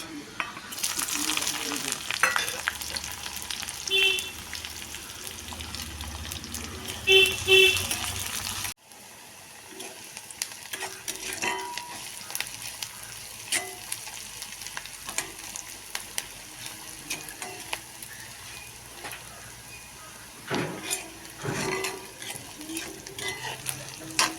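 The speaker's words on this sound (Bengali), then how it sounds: "এবার দেব কেটে রাখা পেঁয়াজ।" Chopped onions sizzle and hiss as they fry in a pan after garlic, with repeated scraping of a spatula stirring them; the frying noise stays loud and continuous, dipping briefly when more onion goes in.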